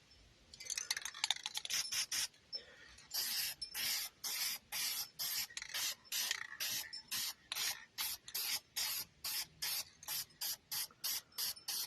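A spray paint can gives repeated short hissing bursts onto poster board, painting a green galaxy; a quick run of sprays comes first, then a steady series of evenly spaced blasts, close and clear.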